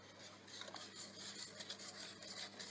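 Whisk scraping rapidly against a pot of cream heating on a stovetop, a continuous metallic rubbing and clinking in a quick, even rhythm, close and fairly quiet with no talking.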